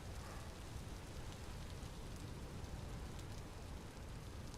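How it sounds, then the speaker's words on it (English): Steady, dense rain hiss in the game Vintage Story, a violent storm pouring down without pause, loud and even across the whole stretch. "this rain is so loud compared to what's going on in the world around me."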